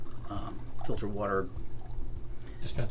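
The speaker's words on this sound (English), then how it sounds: "Filtered water dispenser, because another reason not to keep opening the fridge and the freezer" Water pours from a filtered water dispenser in the galley of a Jefferson 60 motor yacht, a brief close stream running under continuous conversation.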